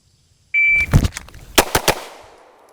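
Handguns fire in a point shooting drill: a shrill electronic shot-timer beep, then a sharp shot, and moments later three more rapid cracks close by, ringing out briefly before fading.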